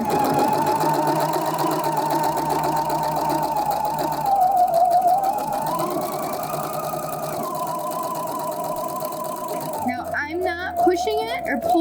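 A sewing machine with a gathering foot stitches and gathers a fabric strip, a steady near motor whir with rapid needle rhythm that shifts pitch slightly, then stops and gives way to clicks and handling noise.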